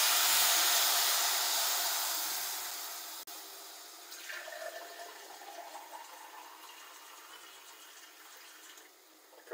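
Wine, about 200 ml, poured into a risotto pan over butter and onion, giving a loud steady rushing sizzle and splash that fades into a gentler bubbling hiss, close up with no talking.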